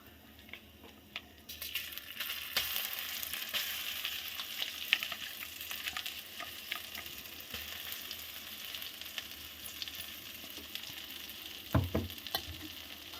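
Ground green pea paste hits hot oil for a matar kochuri filling. After a quiet start a continuous crackling sizzle begins, with stirring scrapes and utensil clinks near the end and no talk.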